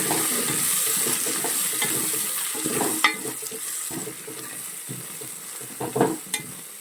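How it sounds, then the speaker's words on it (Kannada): Kasuri methi, mint and coriander leaves fry and get stirred in a pan for a vegetable rice bath, a steady close sizzle broken by a few scraping stir clinks near the end. "ಜೊತೆಗೆ ಸ್ವಲ್ಪ ಪುದೀನ ಸೊಪ್ಪು ಹಾಗೆ ಕೊತ್ತಂಬರಿ ಸೊಪ್ಪು ಎರಡನ್ನೂ ಆ್ಯಡ್ ಮಾಡಿ ಈ ಥರ ನೀಟಾಗಿ ಫ್ರೈ ಮಾಡ್ಕೊಳ್ಳೋಣ"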